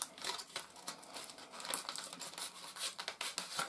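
Tape slides off a cardboard box in a run of close, quiet crinkles and rustles with small papery scrapes, soft and irregular, with no voices.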